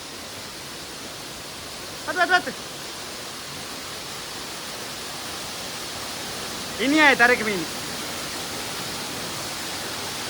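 Ermayi Falls pours as a steady, broad rushing roar of falling water, continuous and fairly close, with two brief bursts of voices talking over it.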